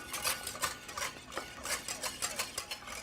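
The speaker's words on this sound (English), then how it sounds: "I'm going to add that in very gradually, whisking the whole time." Scalded cream being whisked gradually into eggs for creme brulee, heard as quick rhythmic whisk strokes against a bowl, soft and close, with no talking.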